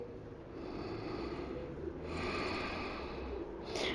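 Deep, slow breathing during a live-streamed yoga session, a long airy inhale swelling and easing over several seconds with a sharper breath catching near the end, close and steady with no talking.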